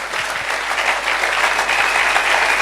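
A church congregation applauds steadily and loudly for God during an Easter Sunday service, a dense wash of clapping that carries on without a break.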